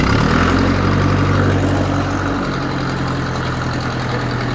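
A tractor engine runs steadily at idle while hitched to a manure spreader before loading, a loud, close, low rumble that drops slightly in pitch partway through and continues alone.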